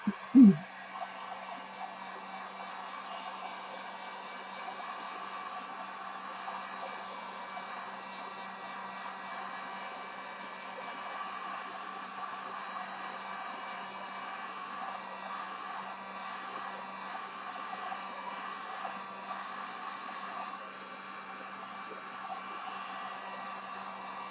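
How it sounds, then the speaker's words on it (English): A heat gun blows steadily on an acrylic pour painting, a continuous airy whoosh with a faint motor hum lasting over twenty seconds at even, moderate loudness after a brief knock at the start. "I'm going to do a quick heat gun thing here and see what we got."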